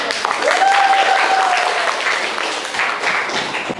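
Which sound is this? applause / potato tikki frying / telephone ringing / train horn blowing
applause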